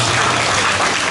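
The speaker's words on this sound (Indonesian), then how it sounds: "Tepuk tangan dulu." Brief burst of loud applause from participants at a motivational session, a dense crowd of hands clapping together with no speech over it.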